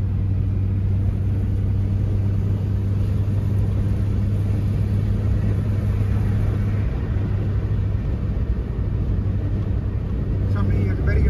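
Heard from inside the cabin, a car cruises at about 120 km/h on a highway with a constant loud low rumble and road noise that runs the whole time.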